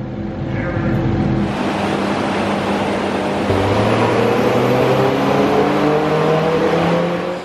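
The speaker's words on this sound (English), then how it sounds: "The exhaust is a little bit louder." A tuned Mini John Cooper Works GP on a dyno gives a loud, steady exhaust roar, with the engine tone shifting in pitch partway through as revs change, close and continuous.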